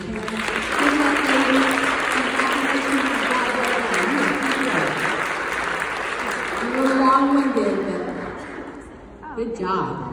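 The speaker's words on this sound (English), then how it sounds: "we're going to give you another round of applause as we send you back to your parents." Sustained audience applause at a national event fills the scene, steady and loud for several seconds with some cheering and chuckles mixed in, tapering off near the end.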